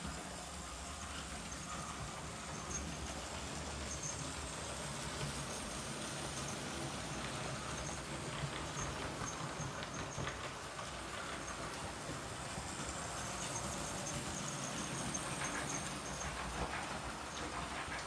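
An Airfix Royal Scot model train locomotive runs continuously on its track, giving a steady, fairly quiet mechanical whirr and faint clickety rhythm that carries through the whole stretch without talk.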